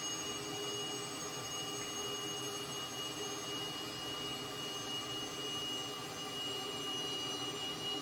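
Steady whine and rumble of a Cessna T-37 Tweet jet engine in Microsoft Flight Simulator 2020, a constant loud drone with high tonal lines holding throughout, no talk.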